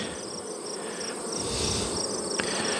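A steady, dense buzzing drone of many honeybees, close by and fairly constant, with no voices.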